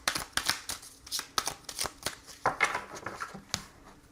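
Tarot cards shuffled by hand for a reading: a quick irregular run of crisp riffling slaps and flutters, close and fairly quiet, with no talking.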